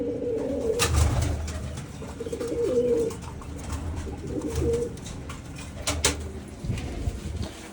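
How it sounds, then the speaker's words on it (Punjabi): A breeding pair of pigeons coo nearby in several low, throaty rolling phrases, one after another, with a few faint clicks and rustles around them. "ਉਹ ਕਬੂਤਰ ਆ ਤੇ ਇੱਧਰ ਵੀ ਜੋੜਾ ਲੱਗਿਆ ਹੋਇਆ"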